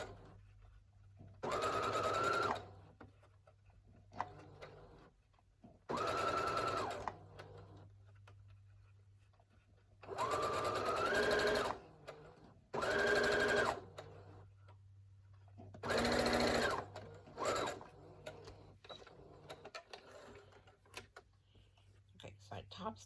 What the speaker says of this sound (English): So I'm going to just top stitch it.